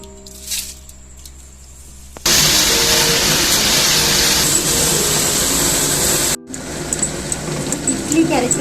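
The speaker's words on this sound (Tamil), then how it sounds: "நான் கிரைண்டரில் போட்டு அரைக்கிறேங்க" Wet grinder starts up and churns soaked pearl millet into idli batter, a loud continuous whirring grind that stops briefly and resumes, preceded by faint talk.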